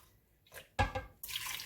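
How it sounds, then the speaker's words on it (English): Water tipped into a bowl of masa for hand-made tortillas, a brief close splash then a steady wet pouring and trickling rush, with no voices. "I'm going to add just all the water into the masa"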